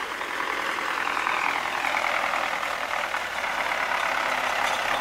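An MTZ-80 tractor with a front loader works at a sand quarry, its diesel engine running in a steady, loud, rough drone with continuous mechanical clatter and no voices.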